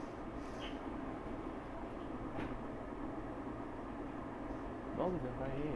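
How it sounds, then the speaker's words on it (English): A SEPTA Market-Frankford Line subway train departs, a steady low rumble and rolling rail noise filling the car at a fairly quiet level, with a brief voice near the end. "Frankford train making all stops"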